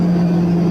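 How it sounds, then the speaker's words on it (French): A military airplane flies overhead at about 300 metres while dropping paratroopers, heard as a steady, droning engine hum with a strong low tone that holds evenly through the brief moment. "l'avion passe au-dessus de nos têtes"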